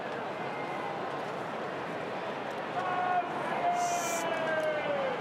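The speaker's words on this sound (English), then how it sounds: "Siren sound." A long end-of-game siren wails over a loud, roaring crowd at an Australian football match, rising in from about the midpoint and holding steady to the end.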